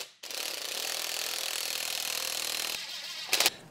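A ratchet wrench runs a nut down on the cylinder head of a 1964 Triumph TR4, giving a steady close buzzing ratchet whir for about two and a half seconds, then a short burst of clicks.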